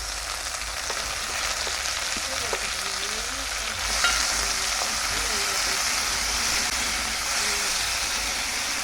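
Onions, carrots, scallion, tomato, scotch bonnet and sweet peppers sizzle steadily in a hot pan for a Jamaican brown stew snapper, a continuous close frying hiss with a brief stir partway through and faint talk underneath.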